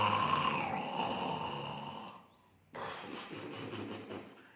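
A voice imitates snoring twice: a long rasping snore, a brief pause, then a second harsh, gravelly snore, close and fairly loud.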